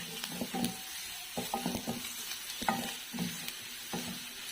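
Onions sautéing in a pan with plenty of ginger and garlic for a beef papaitan, with a steady low sizzle broken by repeated scraping stirs and clinks of a utensil against the pan.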